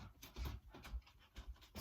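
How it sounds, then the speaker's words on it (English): A dog panting indoors close by, quick rhythmic breaths in an uneven series over low background noise, no talk. "sorry, that's my dog."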